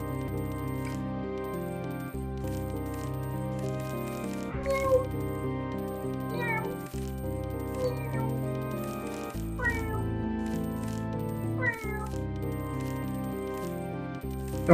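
Cartoonish cat meows from the video game Exoptable Money pop up several times over steady, looping game music, each one short and rising.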